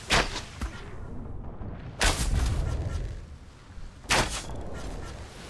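Three heavy cannon blasts from the video game Atlas boom at roughly two-second intervals, each followed by a rumbling decay, with game ambience between them.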